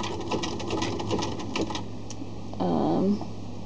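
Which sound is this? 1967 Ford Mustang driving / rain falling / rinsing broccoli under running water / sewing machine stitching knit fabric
sewing machine stitching knit fabric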